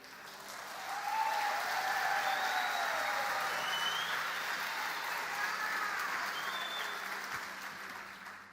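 Audience at a church congress applauding, a broad, steady wash of clapping that swells in after a second and holds for several seconds before easing slightly, moderately distant, with a few faint cheers.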